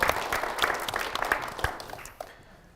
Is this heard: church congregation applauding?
yes